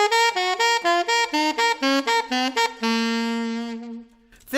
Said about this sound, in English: Now if we played that same G natural minor scale in an expanding scale fashion, it would sound like this.